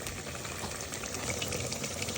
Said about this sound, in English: I'm going to add another half cup water for the last 10 minutes